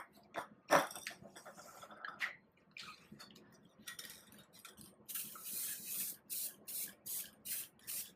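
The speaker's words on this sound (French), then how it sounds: "je préfère y mettre un petit peu de chocolat en bombe, un petit peu velours" A can of velvet chocolate spray hisses onto a chocolate passion log cake in a series of short, sharp bursts, growing denser toward the end, with a few light clicks and taps between sprays.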